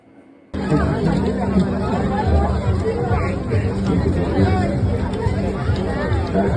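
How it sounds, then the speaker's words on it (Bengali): Dense crowd chatter inside a busy Durga Puja pandal: a loud, continuous babble of many voices that starts abruptly and holds steady throughout, with no single voice standing out. "এত ভিড় ছিল প্যান্ডেলে"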